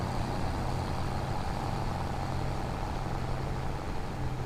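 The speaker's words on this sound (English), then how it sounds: "Pretty loud tractor though, huh?" A tractor engine running loudly on a farm field in Brazil, a steady close rumbling drone with constant low-end throb and no break, nothing else standing out over it.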